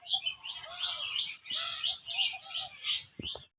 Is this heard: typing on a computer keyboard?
no